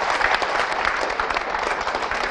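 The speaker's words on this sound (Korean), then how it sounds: "다시 한번 여러분을 위해서 박수 한번 치도록 하겠습니다." An audience at a business presentation for an eco-friendly products company applauds in a steady, dense patter of many hands, evenly sustained and moderately loud with no voices over it.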